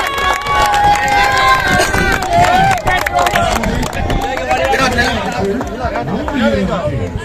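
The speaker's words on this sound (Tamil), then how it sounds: "உற்சாகமான கரகோஷம்" Enthusiastic clapping and cheers from a crowd at a raffle draw during a Tamil community sports festival in France, dense and lively, with chatter and voices mixed through it.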